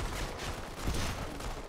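Rifle gunfire in the mobile shooter Go4MC5 on iOS, a dense, continuous crackle of overlapping shots, steady and moderately loud throughout the brief moment.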